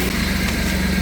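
Idling 2017 Ford F-150 EcoBoost engine, which has an oil-burning turbo and exhaust manifold leak, holds a steady loud low hum with a constant tone and no voices.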